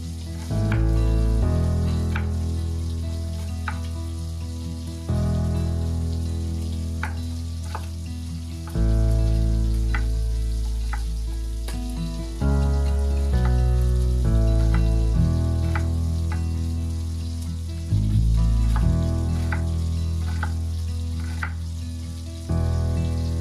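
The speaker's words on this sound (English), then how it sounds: "add the onion straight into the bacon fat to cook" Chopped onion fries in bacon fat in a pot, a steady sizzle that runs continuously with occasional stirring, set under background music.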